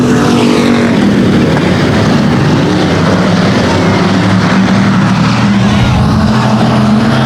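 Dirt track race cars roar around a speedway during a heat race, engines droning loud and continuous with shifting pitch as the pack passes close by.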